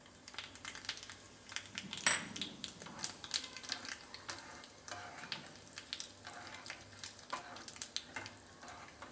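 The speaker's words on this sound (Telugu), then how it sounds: "ముందు 2 టేబుల్ స్పూన్లు ఆయిల్ వేసుకొని అది కాగిన తర్వాత ఈ దినుసులను ఇందులో వేసేసుకోవాలి" Whole spices for tempering crackle and sizzle in about two tablespoons of hot oil, a steady close frying hiss with scattered pops and a stirring scrape, no voices.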